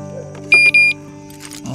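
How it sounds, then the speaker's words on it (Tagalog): A parked motorcycle's alarm chirps as it is armed, giving a couple of short, loud electronic beeps with a brief gap between them, followed by quieter shuffling. "hindi ko pwedeng malimutan ang motor ko nang hindi nakakabit yung mismong alarm dito sa pinagpaparadahan niya"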